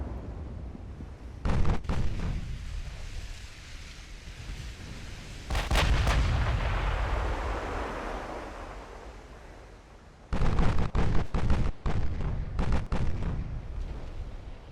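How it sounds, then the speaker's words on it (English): Naval gunfire in Ultimate Admiral Dreadnoughts, with an armored cruiser's guns loosing heavy booming salvos, loud and close, with long rolling rumbles between bursts and a rapid cluster of shots toward the end. "Starting to receive shells. We're actually in range of their guns."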